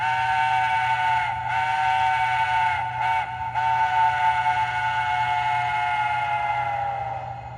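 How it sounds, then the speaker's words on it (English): A model steam locomotive's grade crossing whistle, MTH Protosound 3.0 sound system, sounding a long, steady multi-tone blast with a couple of brief breaks, close and loud over a low hum. "the grade crossing whistle sounds a lot better than the actual function 2 whistle"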